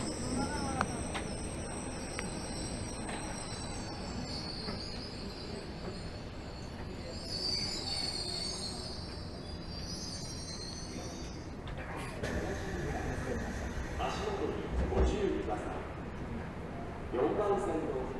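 Tokyo Metro Hibiya Line 13000 series train running on the subway, recorded from inside the car: a steady low rumble of wheels and motors with high squealing tones rising and fading, and a muffled announcement voice in the background.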